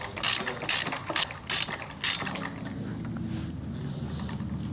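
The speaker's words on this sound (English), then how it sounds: "Takes a bit more force, so I'm taking the wrench out. I'm gonna snug the drive side." A ratchet wrench snugs the drive-side bottom bracket on a Lynskey Helix PRO bicycle frame, giving a quick series of close, crisp ratcheting clicks followed by a lower, steadier turning rasp.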